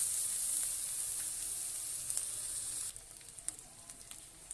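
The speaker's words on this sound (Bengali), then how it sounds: "এর মধ্যে দিয়ে দেবো আদা রসুন বাটা" Ginger-garlic paste hits hot oil in a pan and sizzles with a bright, continuous close hiss. The sound drops in level partway through and gives way to scattered crackles and light scraping.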